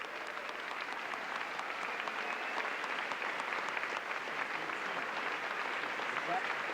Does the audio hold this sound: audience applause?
yes